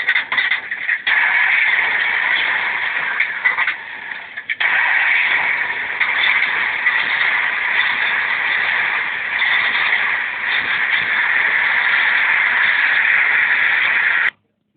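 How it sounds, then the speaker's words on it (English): A 1961 Jeep Willys pickup engine being cold-started, heard as a continuous loud, band-limited running rumble with a few dips and stumbles early on before settling into a steady idle until it cuts off. "Cold start on a 61 Jeep Willys pickup"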